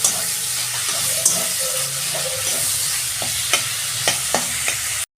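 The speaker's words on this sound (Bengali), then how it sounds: "আমার মাছ ভাজা হয়ে গেছে" Fish fries in hot oil in a kadai with a loud, steady, close sizzle. Sharp clinks and taps from a utensil punctuate it toward the end.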